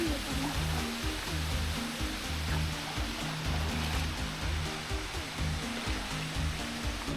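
Waterfall at Ranjanpada dam, a loud continuous roar of falling water with a rumbling low end, steady and close, with a low hum from nearby activity underneath.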